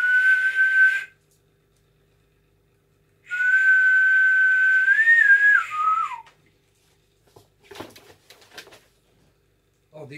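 A small metal whistle gets blown in two sustained, piercing blasts, a short one and then a longer one that wavers and dips at the end, followed by faint handling clicks.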